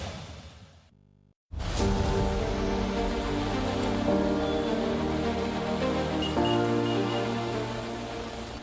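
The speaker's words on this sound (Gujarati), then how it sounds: "ત્યાં પણ ધોધમાર વરસાદ છે" Heavy downpour in Valsad during flooding, a steady dense hiss of rain that starts loud after a brief pause near the beginning and holds constant throughout, with no voices.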